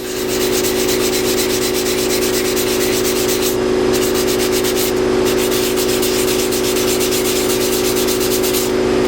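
Sandpaper of 500 grit rubs steadily and close up against a cast aluminum motorcycle rim, a continuous rhythmic scratching with brief breaks in the stroke.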